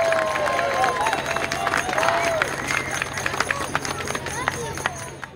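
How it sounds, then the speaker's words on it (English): Audience applause and cheering for a band at a downtown tree lighting event, a steady wash of clapping and crowd noise with scattered voices, moderately loud and continuous before gradually thinning. "join me in a warm round of applause"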